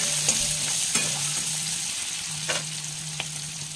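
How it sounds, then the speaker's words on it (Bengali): Chopped onion fries in hot oil with green chilli already in the pan, a loud, close sizzle broken by a few sharp stirring scrapes, with no talking. "কুচো করা পেঁয়াজটা আমি দিয়ে একটু ভেজে নেব"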